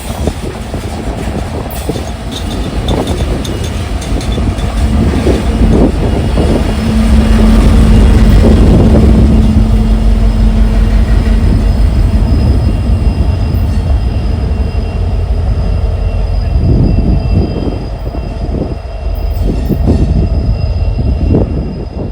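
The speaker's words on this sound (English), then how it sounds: "the NSGP60 powering L71 today, a locomotive type that you also don't see that much anymore" An NSGP60 locomotive leads train L71 past at close range, a loud rumble of engine and rolling wagons swelling in the middle, with rail squeal and clatter continuing as the cars go by.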